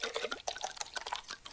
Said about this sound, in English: we've also got these filling the bottle with water sounds